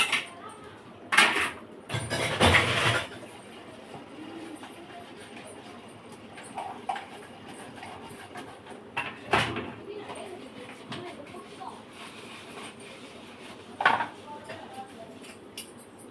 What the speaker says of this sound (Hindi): अभी कर लेते हैं जल्दी जल्दी बर्तन